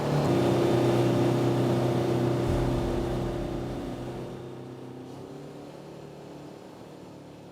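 A WAKE-X2 wake boat engine drones loudly with steady harmonic hum while making waves, then fades away into the distance, leaving water noise and quieter rumble.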